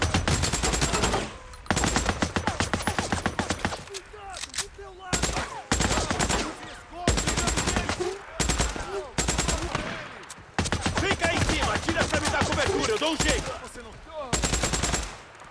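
Rapid automatic machine-gun fire in the video game Days Gone, loud sustained bursts of several seconds each separated by short pauses, with a voice talking faintly between volleys.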